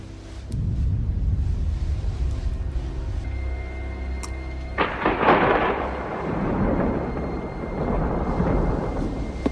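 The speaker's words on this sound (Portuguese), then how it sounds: "e vê raios e trovões ao fundo" Thunder rolls in a film scene from The Matrix, a low sustained rumble that swells into a sharper crack about halfway through and then keeps grumbling loudly, with no one speaking.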